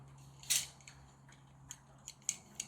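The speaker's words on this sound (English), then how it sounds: "now you either cut that out with a sharp knife or scissors" Scissors snip through material close up, one louder cut followed by several quick, lighter clicks and snips in a quiet room.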